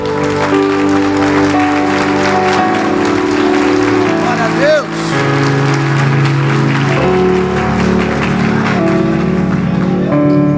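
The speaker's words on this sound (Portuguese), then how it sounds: "Se você for aplaudir a palavra" Congregation clapping at a church service rises beneath sustained worship music with held keyboard-like tones, while a voice speaks over the mix and the applause and music carry on together loudly.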